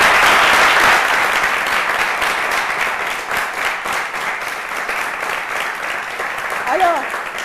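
A young studio audience on a French-language youth TV talk show claps steadily for about seven seconds, a dense, lively wash of hands, with voices talking over it toward the end.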